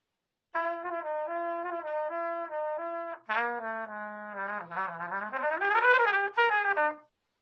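A trumpet with a big-cup mouthpiece plays alone, close and full-toned: a run of steady sustained notes, then a livelier phrase with bends and rising, brighter tones before stopping.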